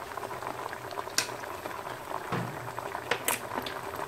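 Rafissa broth simmers in a pot as olive oil is poured in, giving a steady close bubbling with soft sizzling and a few sharper splashes, no talk.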